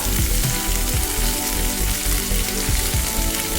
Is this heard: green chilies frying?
yes